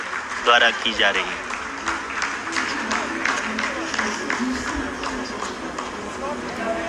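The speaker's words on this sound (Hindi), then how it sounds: "आप इस तालियों के गड़गड़ाहट को सुन सकते हैं" Scientists at ISRO mission control applaud after the Chandrayaan-3 lander completes its second hovering phase, a dense ripple of clapping under a steady commentary voice throughout.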